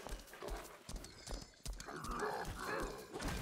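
Horse hooves clip-clopping at a run in the Lost Ark video game, a steady rhythmic beat with a brief whinny-like call, fairly close and alone.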